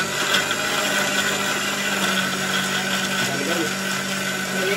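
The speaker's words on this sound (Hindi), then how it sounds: "मिक्सी में पीसो, आवाज आएगी भी घर घर घर" Kitchen mixer grinder whirring steadily as it grinds raw mango with cumin and salt, a loud continuous motor drone that holds without pause.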